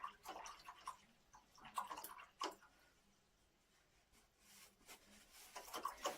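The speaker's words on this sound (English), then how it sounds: "I just need to wash this brush out." A paintbrush rinsed in water during a sheep watercolour painting session, giving soft, close sloshing and tapping bursts at irregular intervals, faint and intimate with quiet pauses between.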